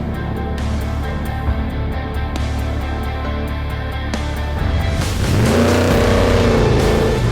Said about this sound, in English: Trophy truck 68 off the line